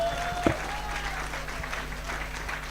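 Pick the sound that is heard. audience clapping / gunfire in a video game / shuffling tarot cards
audience clapping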